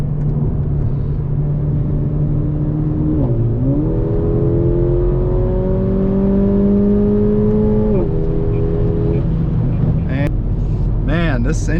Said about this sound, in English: This engine makes some great noises. It's got to have a massive turbo on it.